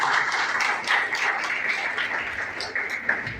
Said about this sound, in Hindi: आप लोग जोरदार तालियां बजाएं